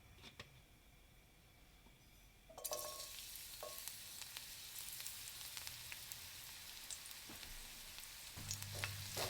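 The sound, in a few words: garlic sautéing in extra virgin olive oil in skillet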